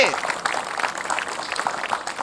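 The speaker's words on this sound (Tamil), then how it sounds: "பெரிய கைத்தட்டல் கொடுக்குறாங்க குழந்தைக்கு." Studio audience applause for a child contestant on a Tamil children's TV fun show, a dense, steady patter of clapping lasting a couple of seconds, with voices mixed in.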